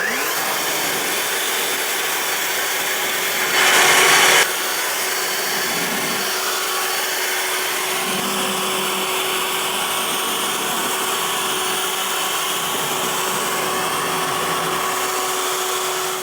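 A leaf blower drying a car at a self-serve car wash, giving a steady, loud broadband roar that runs the whole time with a brief louder burst near the start.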